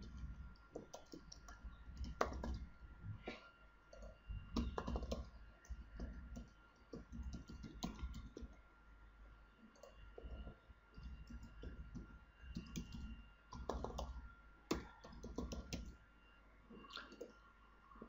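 Keyboard typing at a computer while a comment is entered on a WordPress blog form, a quiet, irregular run of small clicks and taps spread over the whole stretch, close but faint, with no speech.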